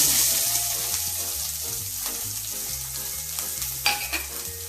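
Steady sizzling and crackling of chopped onions and green chillies frying in hot oil, close and continuous, with faint stirring clatter.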